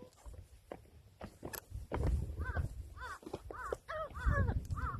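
A large bird calls in a series of harsh, repeated caws, about six in quick succession, moderately close, with footstep-like rustles and thumps beforehand and low outdoor rumble underneath.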